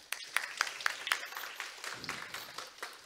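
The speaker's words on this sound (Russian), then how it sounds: "Давайте аплодисменты да." Faint applause from a small audience, light and brief, heard from a distance.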